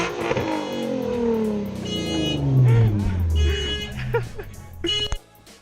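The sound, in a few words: car engine running and revving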